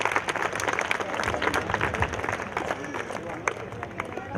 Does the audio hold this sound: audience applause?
yes